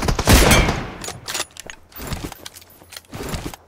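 Video game gunfire in a fast, aggressive battle-royale match: several close bursts of rapid shots come in clusters, with a loud volley at the start followed by shorter rattling groups separated by brief gaps.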